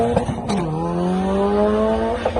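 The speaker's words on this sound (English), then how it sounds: "I saw Chris Rudnick's videos at the drag strip, launching at full power on slicks" Mazda Miata on slicks at a drag strip, a loud close engine note that rises steadily under hard acceleration with a brief tire chirp at the start.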